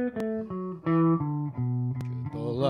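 Electric guitar picking a blues pentatonic exercise in triplets, clear single notes in an even three-note rhythm, close and alone.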